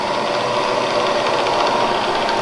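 A Bridgeport Series 1 EZ-Trak 2-axis CNC vertical toolroom mill with power drawbar runs with a steady, loud mechanical whir and hum that holds even throughout, with no one talking.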